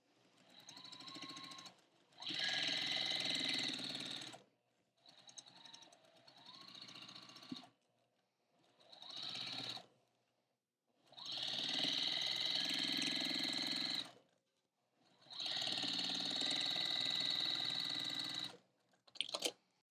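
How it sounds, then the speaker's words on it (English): A sewing machine stitching a row of quilt blocks together, running in several bursts of a few seconds each with short quiet pauses between, close and fairly soft. "Let's sew our top row."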